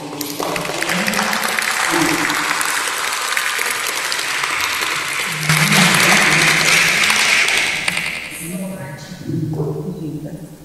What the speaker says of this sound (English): take round of applause for